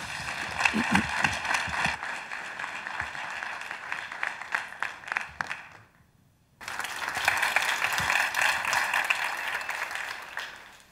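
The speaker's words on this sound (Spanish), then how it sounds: "Un aplauso." Loud, dense applause from a crowd at a Python GIS meetup talk fills the room, briefly fading to near silence before resuming at full strength.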